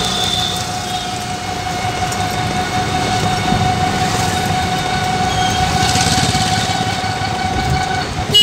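A train runs on the rail line near Gopalnagar with a loud, steady rumble and a sustained whining tone that holds throughout without a break.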